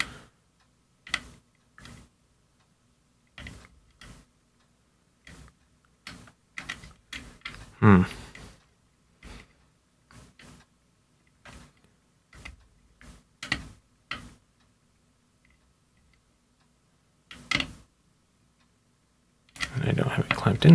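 Lock pins set one by one in a Paclock padlock being picked with a Dorma pick, producing sharp, isolated clicks at irregular intervals. The clicks are quiet and close, with a louder handling rattle at the end.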